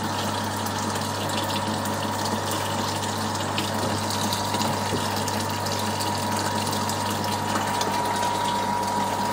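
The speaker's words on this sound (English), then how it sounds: "Now we just want to turn our pump on so that we can start sucking the water through." A water pump runs steadily, drawing water through with a continuous rushing, gushing hum and a constant low tone, loud and unbroken throughout with no talk.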